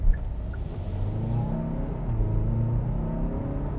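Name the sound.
2026 Kia Sorento X Line SX 2.5L turbo accelerating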